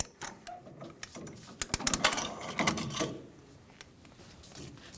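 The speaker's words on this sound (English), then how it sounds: "Torque the inner tie rod from 45 to 62 foot-pounds." A ratchet clicks in short bursts as the inner tie rod on a 2005-2015 Toyota Tacoma is torqued, close-up metallic ratcheting with brief pauses between pulls, no talk.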